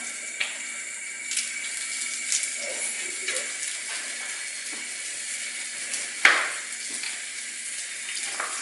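Leafy greens are rinsed under a running kitchen tap, giving a steady hiss of flowing water with small splashes and one sharper clatter near the end, close and continuous without speech.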